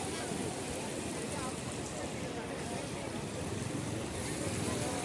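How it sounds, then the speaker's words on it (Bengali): Rough surf at Kuakata beach in a stormy sea, heard from the shore as a steady, loud roar of breaking waves with constant wind noise across the microphone. "অল্প কিছুক্ষণ পর পর প্রবল বেগে ঢেউ এসে আছড়ে পড়ছে"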